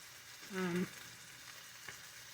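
A top cap sirloin steak sears quietly in a cast iron pan, giving a faint steady sizzle with a brief louder burst early and one small pop later.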